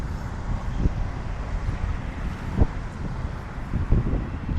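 Cold wind blows outdoors in front of the Defence Ministry as the rainy season ends, a steady low rumbling buffet against the microphone with occasional stronger gusts and faint traffic-like noise beneath.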